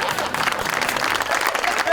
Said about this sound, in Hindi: बहुत सी ताली होनी चाहिए रबी के लिए।